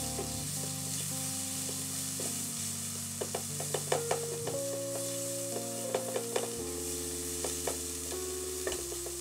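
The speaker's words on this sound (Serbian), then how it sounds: "Sve lepo promješamo." Frittata ingredients sizzle and fry in a pan while being stirred, with a steady hiss throughout and repeated scraping, clicking strokes of the utensil against the pan; no talking.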